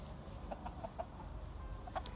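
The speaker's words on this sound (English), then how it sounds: "The big rooster chases them" Chickens and a rooster cluck softly in short, scattered notes, a flock murmuring close by with no other sounds.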